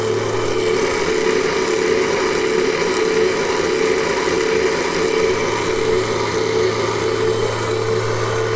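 A three-phase repulsion motor spinning at full power around 6,600 rpm, a steady loud hum and whine holding constant from start to finish with no breaks.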